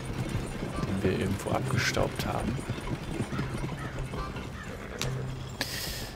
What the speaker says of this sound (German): Jetzt auch noch nicht ganz so schnell hier rum galoppieren.